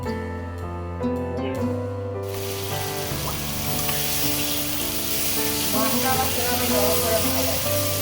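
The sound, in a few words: spices frying in oil with chilli and coriander powder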